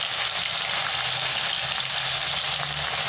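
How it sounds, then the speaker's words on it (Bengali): Rohu fish fries in plenty of hot mustard oil for a Bengali fish curry. The sizzle is loud, steady and crackling, close up and continuous, with no voices. "একটু প্রচুর তেলে মাছ দিচ্ছি"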